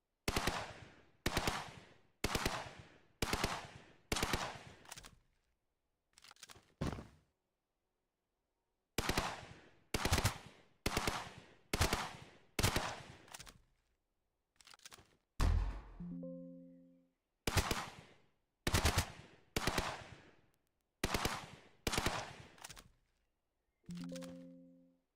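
Repeated bursts of rapid automatic gunfire from a first-person shooter game engine, each volley lasting about a second, separated by short pauses, with a few brief tonal blips between shots and no talking.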